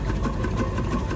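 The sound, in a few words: colonial steam engine running at a steam show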